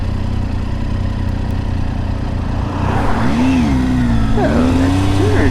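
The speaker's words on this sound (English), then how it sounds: "Oh, I got a car coming" A car approaches and passes close by on a mountain pass road, its engine and tire noise swelling and then fading, heard over the steady rumble of an idling motorcycle and wind.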